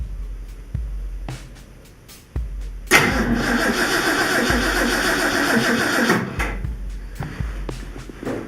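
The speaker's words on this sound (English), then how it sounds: "Pump the gas a couple times and try cranking it over again." A Ford 390 V8 with a rebuilt Holley 4180 carburetor, rejetted and taken from a 1984 351, cranks for about three seconds on its first start attempt in over 12 years, then stops; scattered clunks and knocks come before and after.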